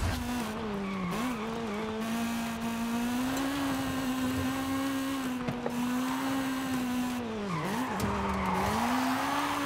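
Video game Honda CRX with a B16 engine swap sliding on Forza Horizon 5's volcano road: a steady high engine drone with long continuous tire squeal as the car drifts, pitch dipping and recovering between slides.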